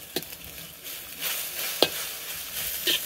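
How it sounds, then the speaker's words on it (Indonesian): Mie goreng noodles sizzle and get stirred in a teflon pan, with a soft steady frying hiss broken by a few sharp scraping strokes of the utensil, close and without talking. "Nah ini kita goreng terus seperti ini sampai dia airnya habis."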